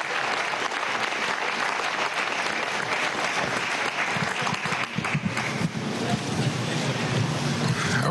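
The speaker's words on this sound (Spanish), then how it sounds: "Por favor, aplaudan otra vez para el senador Bill Perkins." An audience at a summit of Afro-descendant leaders in Harlem applauds continuously, a dense, steady wash of clapping that stays loud throughout with some cheering mixed in.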